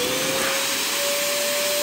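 Cheap Walmart vacuum sucking air out of a large plastic bag for vacuum bagging a glued carbon fiber and wood bend, a loud continuous motor whine with a steady tone and no pauses.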